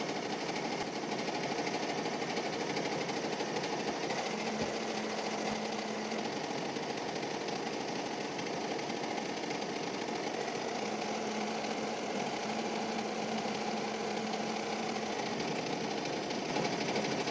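A single-needle embroidery machine stitches a towel, giving a steady, continuous mechanical hum with a fast, even stitching buzz that holds at the same level throughout, close to the microphone and with no voices.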